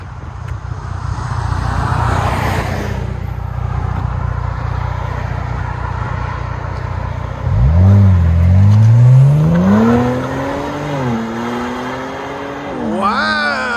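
A 2018 Kia Stinger GT with a 3.3-litre twin-turbo V6, dual exhaust and resonators, idles with a low rumble, then launches and accelerates hard, its engine note climbing through the gears with shifts, loud and close.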